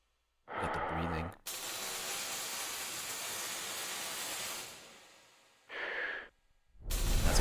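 Heavy, hissing breaths loop through a horror game level, long drawn exhales broken by short gaps, with a sharp gasp near the end; close, loud and steady, alone without talk.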